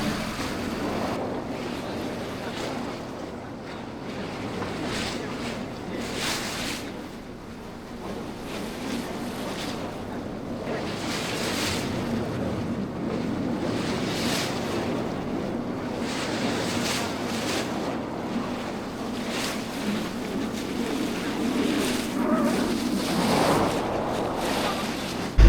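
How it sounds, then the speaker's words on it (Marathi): A fishing boat heads out from a village into the deep sea, waves washing and surging steadily around the hull under constant wind noise across the whole stretch, with a low engine rumble underneath. "बोट सुटले मित्रांनो गावातून आता खोल समुद्रामध्ये जाण्यासाठी"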